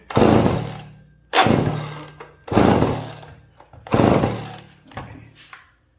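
A McCulloch chainsaw engine is pulled repeatedly, four loud rough bursts that each sputter and fade without catching, then a weaker fifth pull.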